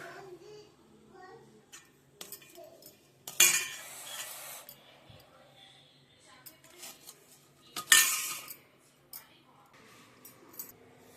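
Hot food being served onto a plate with cutlery in a home kitchen, with soft scraping and clinks and two sharper loud clattering bursts, under quiet talk nearby.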